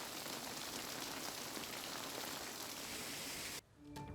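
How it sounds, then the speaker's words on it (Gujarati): Heavy rain pours over a rural coastal area of Olpad near Surat as a dense, steady hiss of drops hitting surfaces, constant and even until it cuts out abruptly near the end. "ઓલપાડના કાંઠા વિસ્તારોની અંદર ધોધમાર વરસાદ વરસી રહ્યો છે"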